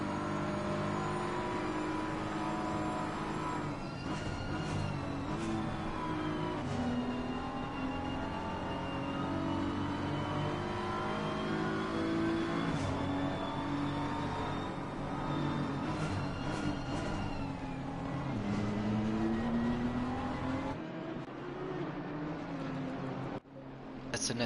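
Onboard a BMW race car lapping Mount Panorama in an endurance series race, its engine droning steadily with rising and falling revs through gear changes and corners, loud and continuous, with commentary voices underneath.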